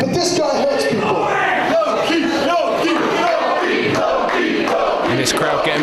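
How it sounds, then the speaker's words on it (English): Wrestling crowd at an FWA show in 2004 roars and cheers steadily throughout, a dense continuous wall of shouting voices with no pauses. "And this crowd getting behind Loki now"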